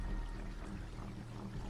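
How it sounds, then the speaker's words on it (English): Salt water pouring into and filling a house in a narrated horror story, heard as a steady, full rushing pour with a low rumble and no break, alone. "The sounds of the house filling up with salt water echo through the house."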